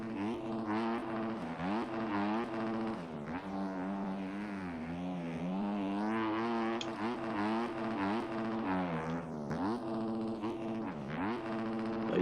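A Yamaha YZ250F dirt bike engine in the MX Bikes video game howls around a track, revving up and down in repeated sweeps as the rider shifts and accelerates, loud and continuous with no talk.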